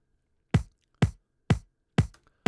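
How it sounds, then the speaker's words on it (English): Five single disco house bass drum kick hits, evenly spaced about half a second apart, each a punchy low thump with a short bright click on top, dry and isolated with silence between. "So I've used this disco house bass drum,"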